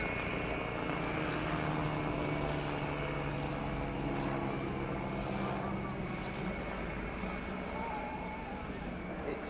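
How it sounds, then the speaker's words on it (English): An Agusta A-109HO helicopter roars steadily nearby during an air show flying display, with a dense, droning engine and rotor noise that never lets up, and a faint voice talks underneath. "it is nonetheless a very, very nimble helicopter"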